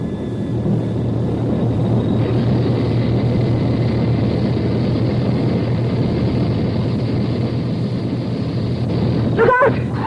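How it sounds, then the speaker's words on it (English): A jet aircraft takes off down a runway, its engines giving a loud, steady roar that holds for the whole stretch, with a brief sharp thump near the end. "We're set for takeoff."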